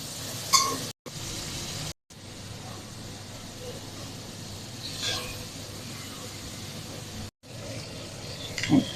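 Prawns frying in a pan at home, a low steady sizzle running under the whole stretch with a couple of faint clinks, interrupted by brief silent cuts.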